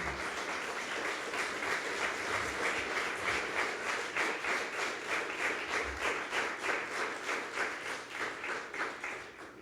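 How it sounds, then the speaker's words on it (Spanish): A congregation at a church service claps in a steady, rhythmic beat, a crowd of hands striking together in even pulses that carry on for several seconds at moderate volume with no voices on top. "Dale un aplauso al Señor, hermano."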